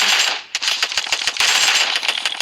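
Rapid automatic gunfire in the video game PUBG, loud quick bursts of shots with a brief pause before more rattling volleys.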